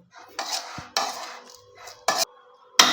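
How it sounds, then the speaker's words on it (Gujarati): Spoon scraping and clattering against a bowl while sesame seeds and peanuts are mixed for sukhdi, in several separate bursts of stirring with short pauses, close and fairly loud. "તલ અને સિંગદાણાને આપણે મિક્સ કરી લઈશું"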